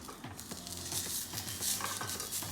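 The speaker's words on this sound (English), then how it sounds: "Wipe down your pan and add 3 tomatoes that are washed" Three washed tomatoes and unpeeled garlic cloves charring in a pan, giving a steady close sizzle and crackle with light knocks of the pan, no talking.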